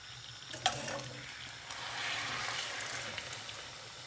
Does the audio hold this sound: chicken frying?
yes